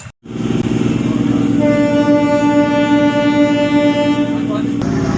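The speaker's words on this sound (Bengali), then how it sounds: "ট্রেনে উঠে পড়েছি" A train rumbles steadily, and a long horn blast rings out over the rolling clatter for several seconds before cutting off.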